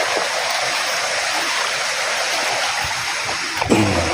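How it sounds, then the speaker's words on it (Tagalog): A forest stream flowing, a steady close rush of water filling the whole scene, with a brief splash or footstep near the end. "Sapa."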